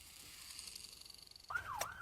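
A toy ambulance siren in a children's pretend-play rescue scene bursts in halfway through as a loud, electronic wailing tone, rising and falling after a quiet, hissy start.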